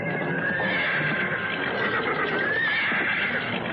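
A horse neighs loudly and continuously with a long, wavering whinny, close by, with faint clip-clop and no talk.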